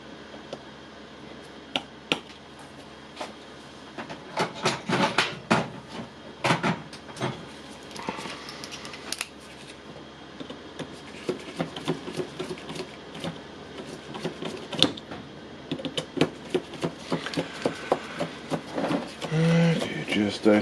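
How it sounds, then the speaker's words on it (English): A screwdriver tightens a screw on the terminal of a Milwaukee M18 18V battery pack, giving a long run of small, irregular clicks and scrapes, some close and sharp, others faint. "Okay, just tightening the screw."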